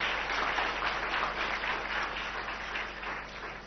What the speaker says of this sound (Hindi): दोनों के लिए जोरदार ताली से स्वागत करो।